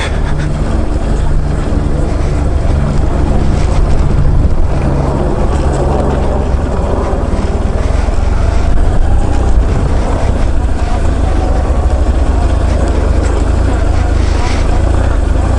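A BMW R1100RT motorcycle riding a rough road, with a steady, loud engine drone buried under heavy wind buffeting on the microphone throughout.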